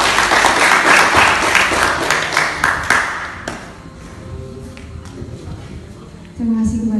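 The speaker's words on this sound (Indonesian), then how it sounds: "Tepuk tangan untuk adik kita ini," Audience claps for a young participant at an Indonesian public speaking training session, a loud burst of clapping that thins into scattered claps and room murmur, then a voice begins speaking.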